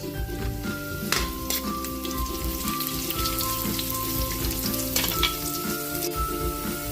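Garlic and onion sizzle steadily in a frying pan, a dense continuous crackle with a brief louder burst near the start as the onion goes in, no talking over it.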